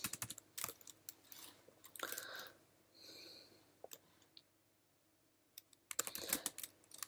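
Someone types an email on a computer keyboard, with quick clusters of crisp keystrokes, a brief pause, and a final dense burst, close and fairly quiet, with no speech.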